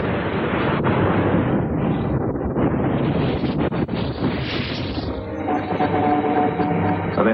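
Missile launches in a movie alien-attack scene, AMRAAM missiles fired by fighter squadrons over Los Angeles, a continuous loud roaring whoosh with rumbling bursts and no speech, like a dense barrage of rocket noise.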